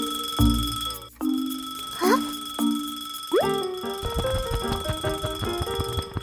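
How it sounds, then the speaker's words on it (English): A cartoon alarm clock rings loudly in repeated bursts with springy boing-like tones, followed by a busy run of bright chiming notes. "Suddenly, the clock starts ringing loudly."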